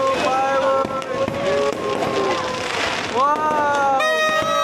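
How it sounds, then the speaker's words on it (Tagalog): New Year's Eve fireworks crackle and pop in a dense, continuous barrage while nearby people cheer and talk loudly over the bursts. "Hello, fireworks!"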